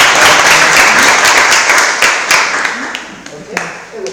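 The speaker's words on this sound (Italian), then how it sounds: "Anzi, un applauso di incoraggiamento." An audience breaks into loud, dense applause of encouragement for someone trying something for the first time; the clapping fades toward the end, with voices talking over it.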